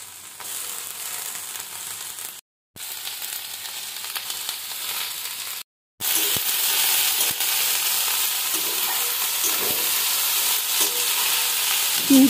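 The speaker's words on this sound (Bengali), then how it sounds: "বাঁধাকপিটা বেশ অনেকক্ষণ ধরে ভাজতে হবে" Shredded cabbage frying in a pan for an oats khichdi, a steady bright sizzle with occasional stirring scrapes, two brief gaps, then louder and denser sizzling that continues alone with no talk.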